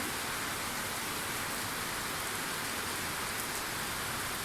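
Steady, dense evening rain pours down without a break, a continuous hiss of drops hitting surfaces all around.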